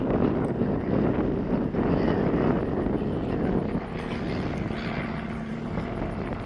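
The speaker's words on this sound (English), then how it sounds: "A plane just went by." An airplane drones past over a flooded area near New Braunfels, Texas, a broad steady roar that swells and slowly fades, mixed with wind rumble.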